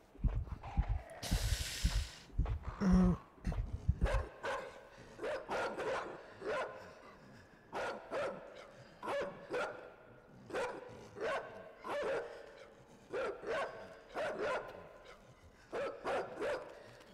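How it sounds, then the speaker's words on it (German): A dog barking in the video game Inside, sharp evenly spaced barks repeating over many seconds after a loud rumbling opening burst, with faint voices at the start. "Da ist ein Hund."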